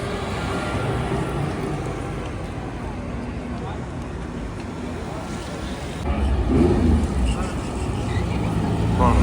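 A Lamborghini Diablo SV drives by on the streets of Monaco, a deep engine rumble that swells louder toward the end over busy traffic noise, with people talking close by.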